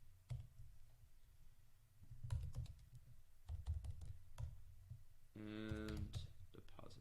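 Quiet keys typing out code on a computer keyboard patter in short clusters and single clicks, with a brief stretch of speech near the end.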